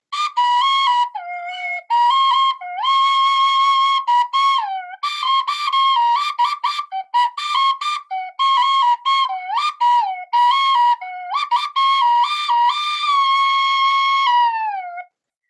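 Hmong flute playing a love song, a bright, reedy, solo melody of sustained notes with swooping bends and short breaks, close and loud, with no voices.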